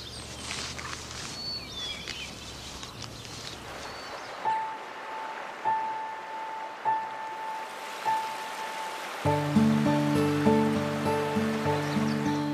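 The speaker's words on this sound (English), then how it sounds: "Water flows again at last." Spring meltwater flowing on the upper Mississippi gives a steady rushing wash, with a few bright metallic tones and plinks joining partway through.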